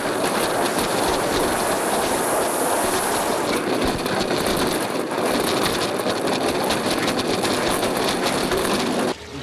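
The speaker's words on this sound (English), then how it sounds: "it makes a lovely mining clacky sound as the train runs up" A mine train roller coaster at Disneyland Paris runs along its track with a loud, continuous rumbling clatter and rapid clickety-clack, sustained and close throughout with no voices.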